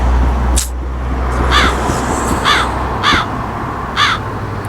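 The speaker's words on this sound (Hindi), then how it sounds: "आज सुबह से हमारे घर की छत पे कौवा बोल रहा है" A crow caws from a house roof, about five harsh, evenly spaced calls ringing out clearly and fairly close, with faint traffic rumble and a low hum underneath.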